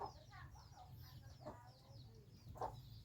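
Several chickens cluck near and around, short repeated clucks scattered over a low rumbling background, one louder cluck standing out toward the end.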